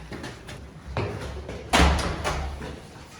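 A dormitory back door opens and closes with a sharp slam partway through, preceded by softer handling clunks and followed by indoor room tone.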